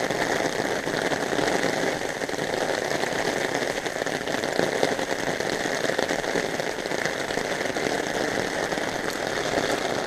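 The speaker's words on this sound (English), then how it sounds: "yeah, there's hail in this." Hail and rain falling on a forest trail along Eagle Creek during a day hike, a dense, steady patter on foliage and gear that continues without pause, with a low engine-like hum beneath it.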